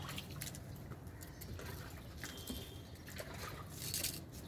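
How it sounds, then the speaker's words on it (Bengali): Water trickles and splashes onto a potted hibiscus plant, a soft, continuous pouring sound with light drips, heard faintly and close against a quiet background. "জবা ফুলের গাছে জল দিচ্ছি"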